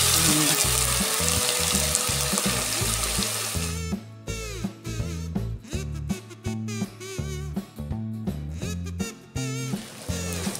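Vegetables sautéing in a pan, including coriander, for idli sambar: a steady, loud sizzle fills the opening seconds, then continues with repeated rhythmic stirring or tossing bursts over the frying hiss, close up, with no talk.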